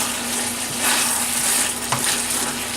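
Chicken stir-frying in about three-quarters of a cup of sauce with pineapple, a steady close sizzle with scraping stirs of a utensil in the pan, no talking.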